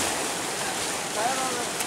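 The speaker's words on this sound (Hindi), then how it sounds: "बहुत ठंडा पानी बहुत प्रेशर वाला पानी" Cold, high-pressure water gushes from a solar-powered tube well pump with a 10 hp motor and 5-inch delivery, a dense, steady roaring hiss that stays loud and unbroken, with no talk over it.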